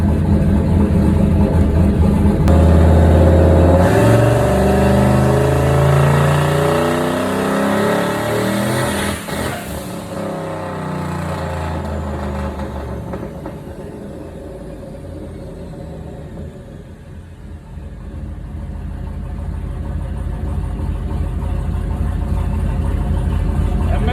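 Turbocharged Chevrolet Silverado with a 4.8 engine and 7875 turbo on a dyno, running a boosted pull: the engine climbs hard and loud, peaks, then drops back to a lower idle rumble, with no talking.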